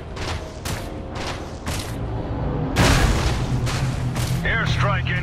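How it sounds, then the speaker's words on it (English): Airstrike explosions in the shooter Section 8: Prejudice land as a rapid series of loud, heavy booms, several distinct blasts followed by a bigger rolling detonation, with a faint radio-like voice over the din. "Airstrike incoming."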